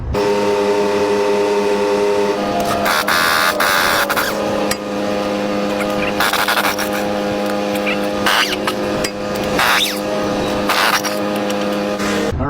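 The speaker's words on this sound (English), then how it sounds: "I'm going to try and raise this machine up as high as it can go" A John Deere farm tractor's engine runs steadily and loudly throughout as the machine is raised as high as it will go, with a constant droning hum and a few brief surges, with no talking.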